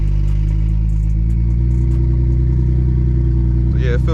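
A big-turbo BMW 335i engine holds a loud steady drone with a rising, fluttering turbo spool near the end, heard from inside the car.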